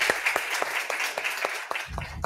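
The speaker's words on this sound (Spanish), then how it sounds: "un aplauso para ustedes también." A small group claps for a couple of seconds, close and fairly brisk, the clapping thinning out before a low thump at the end.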